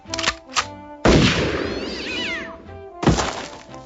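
A house cat meows in short bursts, with one longer, rising and falling cry in the middle and loud thumps and clatter around it, all close by.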